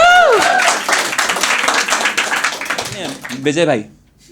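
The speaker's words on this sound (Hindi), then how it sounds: "तालियां भाई, तालियां" A crowd claps during a stand-up comedy show, a dense burst of applause from the audience lasting a few seconds, with a performer's voice heard at the start and again near the end.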